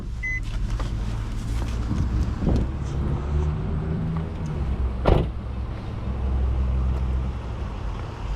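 A 2004 Nissan Maxima SE with its 3.5 engine idles and runs with a steady low hum, a faint whine and occasional clicks and thumps, heard from inside the car with no talking.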